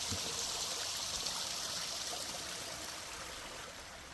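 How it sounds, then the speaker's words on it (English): Spring water trickling from a tap beneath a village church in the Pyrenees, a soft, continuous outdoor babble with no voices. "But a spring coming from underneath the church"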